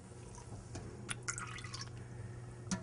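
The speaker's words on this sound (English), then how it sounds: "fill it just a little bit with water so that it covers the meat" Water trickles and drips faintly into a pot over a piece of meat for borscht. The light, uneven splashes come in a few separate bursts close by, with no talk.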